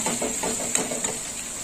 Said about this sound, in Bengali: লাল লঙ্কার গুঁড়োটা দিয়ে একটু কষে নেব।